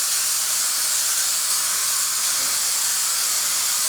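A sprayer used for spraying water and paint in decorating work gives a loud, steady, continuous hiss that holds unbroken for the whole stretch, with no voices over it.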